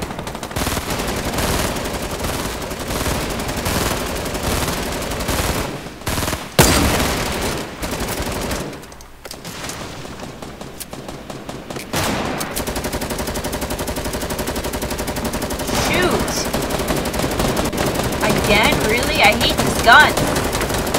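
Rapid automatic gunfire in the video game Fortnite, loud sustained bursts filling most of the stretch with brief lulls and a few single shots, with a voice speaking occasionally under it.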